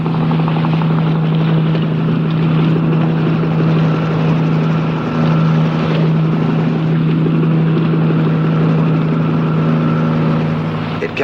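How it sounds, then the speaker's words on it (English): A Coast Guard helicopter approaches over the open sea, a steady loud droning engine and rotor hum with a constant low tone that holds for the whole stretch, with wind noise and no speech. "A helicopter was approaching."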